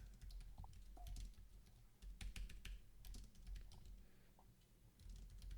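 Rapid, uneven keystrokes on a computer keyboard, close and fairly quiet, in short bursts with brief pauses and a few heavier clacks, with no speech.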